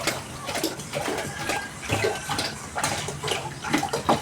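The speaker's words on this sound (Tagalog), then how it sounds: "tubig mineral pang sabaw" Mineral water pouring into a cooking pot for chicken tinola broth, a close, steady splashing stream with small fluctuations and no talk.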